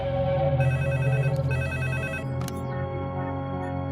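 A telephone rings with a repeating electronic trill, steady and fairly close, with a couple of brief clicks partway through and no talking.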